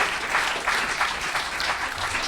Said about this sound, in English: Big round of applause for our secretary in the second row.